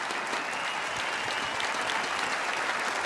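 A large esports arena crowd applauds the newly crowned 2024 Clash Royale League world champion at the World Finals, a dense, steady roar of clapping with no pause, loud and full.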